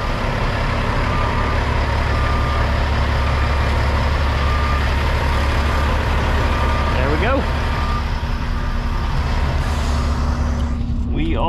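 A truck rumbles loudly and steadily at a back woods truck stop, its deep engine droning throughout with a faint, regular repeating beep above it, and brief squeaks and a rush of air near the end.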